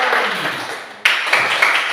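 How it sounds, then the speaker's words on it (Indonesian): A classroom of children claps together, a brisk wash of many hands that breaks off briefly and then resumes just as loud. "Tepuk tangan untuk kita semua dulu."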